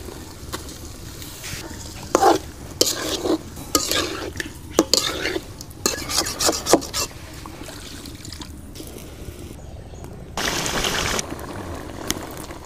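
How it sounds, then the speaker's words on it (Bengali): Fish cooking in a spiced masala of turmeric, cumin, salt and green chilies sizzles while a utensil scrapes and stirs in irregular bursts, close up, with a brief louder frying surge near the end. "আর মাছগুলো দিয়ে দেব"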